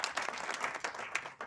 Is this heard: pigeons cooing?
no